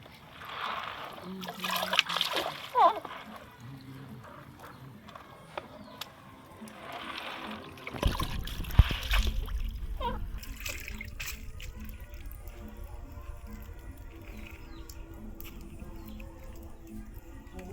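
Ukwa, African breadfruit seeds from the farm, being washed by hand in water, with light trickling and splashing, then a sloshing, fuller water sound in the second half, close by, with some talk in places.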